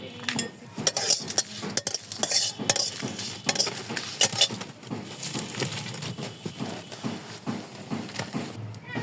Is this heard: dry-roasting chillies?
yes